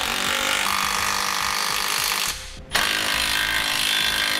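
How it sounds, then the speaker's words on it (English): A ratchet wrench with a 19 millimeter socket tightens trailer hitch bolts on a 2006 Toyota Sienna, giving a loud, continuous ratcheting clatter that breaks off for a split second midway and then resumes. "we can now tighten it down using a 19 millimeter socket"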